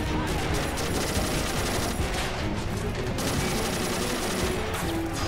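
Sustained machine gun fire from a stationary bunker in an Army Men battle game, dense rapid bursts filling the scene continuously alongside other gunfire in a loud, chaotic fight.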